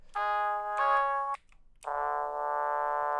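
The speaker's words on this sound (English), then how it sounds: "I use that as like a brass noise." Two bright synthesized brass-like notes, each held about a second with a short gap between, clean and close, no voices.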